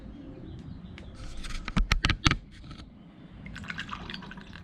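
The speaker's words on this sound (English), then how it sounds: "we got some coolant dripping out of the bleed screw there" Coolant dripping from the bleed screw of a Can-Am Outlander ATV during a coolant change, a quick burst of soft wet drips and taps over a quiet background.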